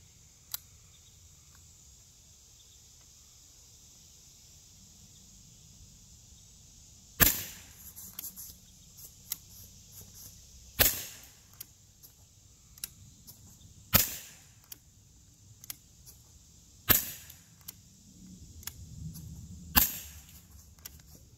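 Gamo P-430 air pistol shooting 4.32 grain Winchester maximum velocity pellets: five sharp, loud cracks spaced about three seconds apart, each followed by a brief rattle, over faint background hum.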